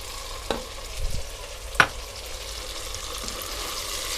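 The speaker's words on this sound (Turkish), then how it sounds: "Şimdi böyle biraz kavuracağım salçasıyla." Meatballs being stir-fried with two spoonfuls of tomato paste in a pan, giving a steady low sizzle with a few scraping stirs of a spoon and one sharper clink, with no talk.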